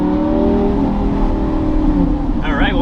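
A Lamborghini cruises along a main highway, its engine a steady, loud drone with road rumble, ending in a brief rising rev; a voice talks over it.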